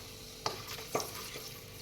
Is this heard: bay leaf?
yes